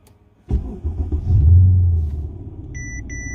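A Mercedes CL550 engine cranks and fires up abruptly, swelling into a deep rumble that settles into a steady idle, followed by two short electronic chimes.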